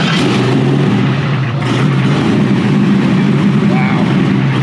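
A car engine in Saudi Arabia roars steadily at high revs, loud and close throughout, with a brief dip partway through, and no speech over it.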